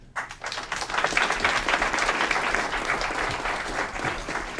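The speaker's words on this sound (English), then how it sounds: "Let's give them both a round of applause" Audience applause honoring coaches at a city council meeting in Aurora, Illinois: dense, steady clapping from many people that begins suddenly and holds at a constant level for several seconds, with no talk over it.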